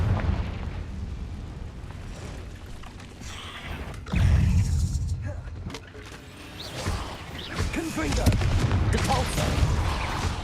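In the video game Hogwarts Legacy, a Confringo fire blast spell is cast in combat, heavy booming bursts and explosive rumbles with a strong surge midway and more blasts later.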